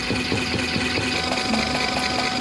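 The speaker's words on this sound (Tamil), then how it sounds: "ட்ரை ஆகிட்டு இதில் வந்து தண்ணி ஃபுல்லாக வெளியில் வந்துருச்சு பாருங்க" A washing machine's spin dryer runs steadily with a continuous mechanical hum and whir, a constant drone with faint rhythmic rattling pulses, close and fairly loud with no talking.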